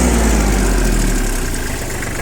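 A Kubota three-cylinder 20 hp tractor engine runs loud and close, a steady dense rumble with the throttle held and a slight easing of the low drone toward the end, no voices.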